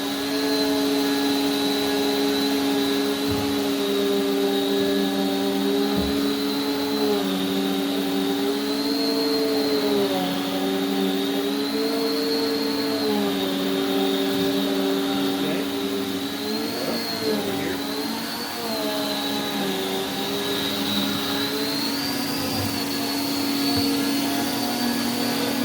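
A Prolux CTX water-filtration vacuum cleaner runs continuously with a steady high motor whine and a slightly wavering pitch as it is pushed around, close and loud, with no talk.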